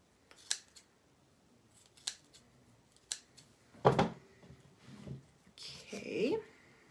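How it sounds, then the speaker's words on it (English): Scissors snip through fabric or lace in a handful of quiet, separate cuts spaced about a second apart, close and faint, with a few soft murmured words near the end. "you're going to take your scissors and you're just going to finish trimming out all of this fabric or lace"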